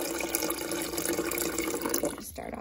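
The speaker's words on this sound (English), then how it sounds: "So you're just going to fill it with water." Water pouring into the reservoir of a LERIZOM countertop portable ice maker, a steady splashing fill that runs continuously and fairly close, with no talking.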